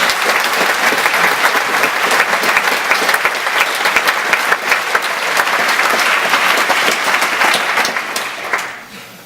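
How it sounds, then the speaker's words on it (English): An audience at a live presentation breaks into sustained applause, loud and dense clapping that carries on steadily for several seconds before tapering off at the end, with no talk over it. "So a big round of applause for all you guys."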